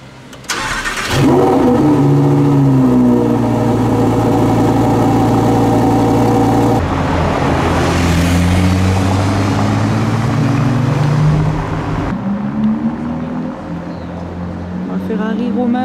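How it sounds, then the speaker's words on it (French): A red Lamborghini Huracan Evo Spider revs its engine at a grand prix event, a loud rising and falling roar with several climbing revs over steady background noise and some crowd chatter. "On continue chez Lamborghini, toujours Huracan Evo Spider. En rouge cette fois-ci."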